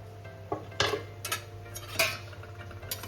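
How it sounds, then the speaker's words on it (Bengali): A metal lid comes off a pot of boiled arhar dal cooked with vegetables, giving a few close clinks and clatters over a steady low hum. "ঢাকনাটা আমি উঠিয়ে নিচ্ছি।"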